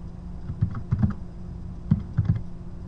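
Typing on a computer keyboard: a handful of close, crisp key clicks in two short bursts separated by a brief pause, over a faint steady hum.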